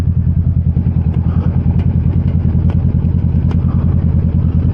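Motorcycle engine running during a ride, a loud, steady, throbbing pulse with a fast, even rhythm, heard close up with some mechanical clatter and no talking.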